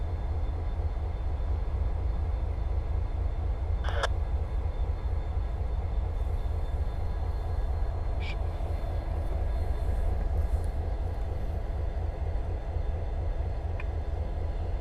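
A CSX freight train rumbles steadily through the NS DeButts rail yard, a constant low drone with a few brief sharp metallic squeals and clanks, no talking.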